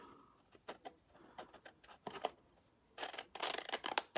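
Scissors snip and crunch through a paper bag flap at close range, a series of short, faint cuts and rustles, with a denser burst of cutting toward the end.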